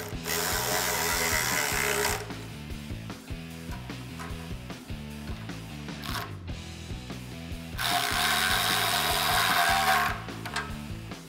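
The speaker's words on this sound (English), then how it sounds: "now I'm just gonna snug the clamps with a 15 millimeter socket" A socket ratchet clicks rapidly and continuously at close range, tightening exhaust clamps on a 2015-2020 Ford F150 5.0L Roush dual exhaust. Two bursts of louder, brighter ratcheting sit on either side of a softer stretch.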